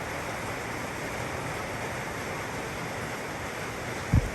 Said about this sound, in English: as you can see, it's still pouring it down